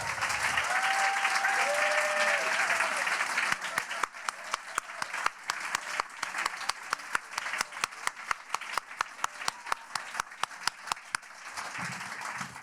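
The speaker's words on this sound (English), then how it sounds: "Let's give another strong round of applause" Audience applause at a PechaKucha Night presentation event in Burlington, Vermont: a dense, sustained wash of clapping that thins into scattered individual claps toward the end, with a few whoops near the start.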